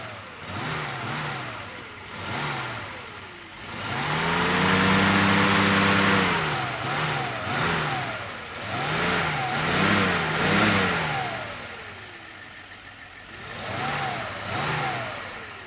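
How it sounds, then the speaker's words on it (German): A 1958 Mercedes 220 S Ponton in original condition is revved from idle in several repeated throttle blips, the engine note climbing and falling, with one longer, louder rev in the middle. "Ich gebe mal ein bisschen Gas, damit ihr das auch hören könnt."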